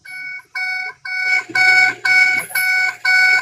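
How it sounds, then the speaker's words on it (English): A car's warning chime sounds for an open door with keys left in the ignition, a loud repeating electronic beep in steady pulses, about seven tones in quick succession. "Why does her car make that noise? Is that because the door is open?"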